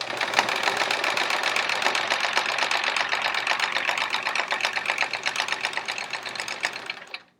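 A sewing machine free-motion quilts straight lines with a Westalee decorative thread ruler foot, its needle running in a steady rapid rhythm, loud and close, for about seven seconds before stopping abruptly.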